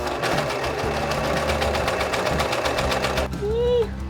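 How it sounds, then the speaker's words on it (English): Serger sewing machine running steadily as it serges fabric for a Zimmermann-style dress, a loud rapid mechanical chatter that stops near the end, followed briefly by a voice. "Okay, serging time."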